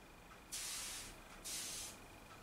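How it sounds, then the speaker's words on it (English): Water drips hissing into steam on a heated bending iron used for boat restoration: two distinct bursts of sharp spraying hiss, each about half a second, close and fairly quiet over a low background. "It's turning drips of water to steam, but I want it so it spits it right off"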